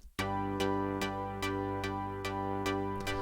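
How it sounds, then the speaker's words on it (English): A sharp, bright synth stab repeats in a steady rhythm, about eight evenly spaced hits over a sustained tonal bed, alone and clear. "So the sharp synth sounds like this."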